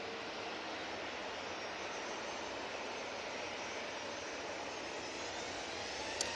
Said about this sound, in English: we do have an arrival in the shape of that easyJet.